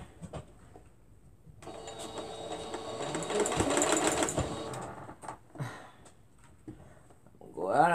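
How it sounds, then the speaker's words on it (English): Sewing machine stitching quilt pieces, its rapid mechanical whirr running steadily for several seconds at close range, stopping near the end as a voice starts speaking. "we're going to go right on and sew right off of it"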